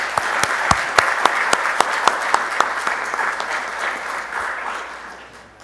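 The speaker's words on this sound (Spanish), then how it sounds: "un aplauso para nuestros visitantes" A conference audience applauds visiting speakers at the close of an event on child trafficking, with sharp, evenly timed nearby claps standing out over a crowd's clapping before the sound thins and fades away.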